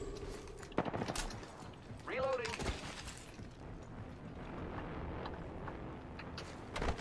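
Gunfire in the battle royale shooter Apex Legends, scattered sharp shots and bursts at modest level over a busy game soundscape, with a player's voice briefly present.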